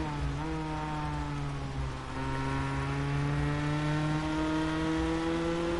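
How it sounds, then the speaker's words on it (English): A race car in a racing video game at Watkins Glen climbs through the gears, its engine tone rising steadily, dipping briefly at a shift and then pulling upward again, loud and alone with no voices. "Nice smooth acceleration up in the gears."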